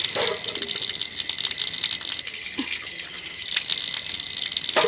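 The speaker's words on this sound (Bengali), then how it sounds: "বসে বসে ধুয়ে নিচ্ছি সব বাসন ধোবো আজকে" Running tap water pours steadily and loudly over dishes being washed by hand, a close, continuous gushing stream with faint clatter of utensils underneath.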